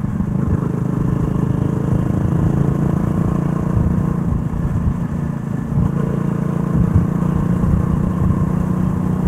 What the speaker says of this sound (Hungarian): csak a motorhang